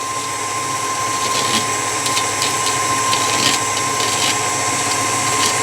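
An electric mixer beats eggs, sugar and orange zest for a tea cake batter with a steady, moderately loud whirring hum and faint irregular ticks of the beaters against the bowl.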